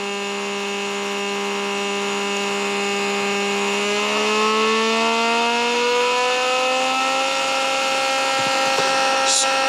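A sensorless BLDC motor with delta winding spins at high speed near 16,000 RPM, giving a loud, steady tonal whine whose pitch climbs smoothly partway through and then holds, with a brief faint click near the end.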